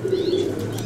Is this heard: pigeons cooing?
yes